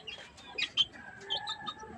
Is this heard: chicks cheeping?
yes